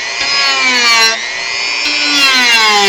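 A Dremel rotary tool grinds and shapes a small model part, its high whine shifting in pitch as the bit bites and eases off, close and steady for a few seconds with no voices.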